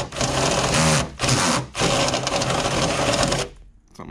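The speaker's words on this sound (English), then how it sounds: "So I'm just going to hit it with a unibit real quick." A unibit step drill enlarging a mounting hole while fitting a wing on a sixth-generation Camaro, three loud close bursts of high-pitched grinding separated by brief pauses, then a fade to quiet.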